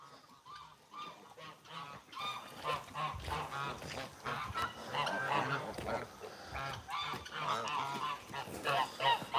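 Geese at an animal sanctuary honk loudly and repeatedly, a dense overlapping chorus of nasal calls close by that keeps building with no pauses.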